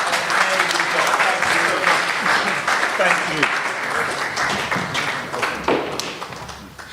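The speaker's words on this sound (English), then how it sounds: "Can we just give them a round of applause?" Audience at a talk breaks into loud, dense applause for speakers, a sustained wash of many hands clapping that slowly fades, with a voice speaking briefly over it.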